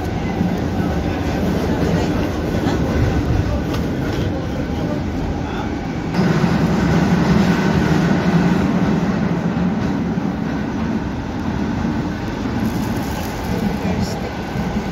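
A train running on rails, a steady rumbling roar that holds at a constant level throughout, close and continuous with no talk over it.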